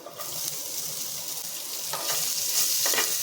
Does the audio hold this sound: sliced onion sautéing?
yes